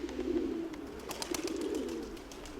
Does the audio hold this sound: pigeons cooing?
yes